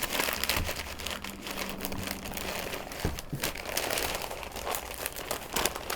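Foil or butcher wrap crinkles and crumples steadily as it is folded tightly around beef ribs before smoking, close and continuous, with no talking.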